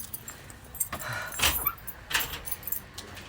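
Keys jangle in short metallic bursts, with a brighter rattle near the middle and another toward the end, fairly close and with no talking.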